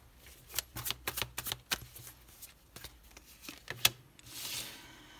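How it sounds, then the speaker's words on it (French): Six tarot cards from Cosmic Tarot and Rider-Waite decks laid out one by one: a quiet run of soft, separate slaps and flicks of card on a surface, then a brief rustle near the end, with no voice. "Allez, on pose les 6 cartes."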